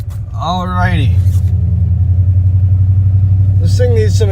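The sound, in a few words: 1995 Dodge Ram 5.9L V8 exhaust with Thrush muffler driving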